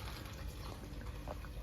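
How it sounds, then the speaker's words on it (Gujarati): Water gushes hard and continuously from a broken tap pipeline outdoors in a village, a steady, close rushing noise with no breaks. "આ છે ને નળની લાઈન તૂટી ગઈ એટલે જો ધોધમાર પાણી આવે છે"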